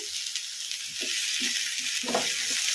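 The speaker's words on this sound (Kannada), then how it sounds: "ಬದನೆಕಾಯಿನ ಈ ಥರ ಕಲಿಸ್ಕೊಂತ 1-2 ನಿಮಿಷ ಫ್ರೈ ಮಾಡ್ಕೊಂಬಿಡೋಣ ಹೈ ಫ್ಲೇಮಲ್ಲಿ" Brinjal pieces fry on high flame, filling the clip with a loud, steady, close sizzle and soft bumps of stirring underneath.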